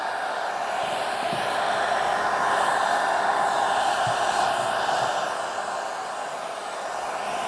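A hair dryer heats a matte black ABS rear spoiler for a Tesla Model Y as it is fitted, giving a steady, close airy whoosh that holds unbroken throughout with no talk.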